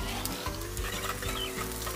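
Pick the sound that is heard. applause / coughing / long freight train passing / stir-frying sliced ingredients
stir-frying sliced ingredients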